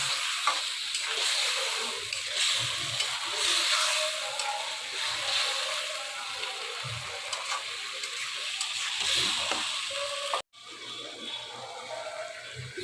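Biryani spice mix fries and sizzles in a pan, with steady stirring and scraping close by. Near the end the sound cuts out briefly, then comes back quieter.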